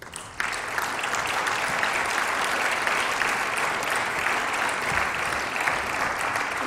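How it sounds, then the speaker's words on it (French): Sustained applause from an audience at the 2015 Manager of the Year award ceremony, greeting a prize winner; dense, steady clapping starts abruptly after a brief quiet moment and holds at a loud, even level throughout. "Je vous demande d'applaudir Madame le rabbin Delphine Horwiller."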